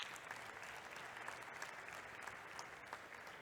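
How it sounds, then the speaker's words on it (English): A virtual start-up pitch night audience applauds the participants, a faint, even wash of distant clapping that holds steady from start to finish. "So I think they deserve a round of applause for participating."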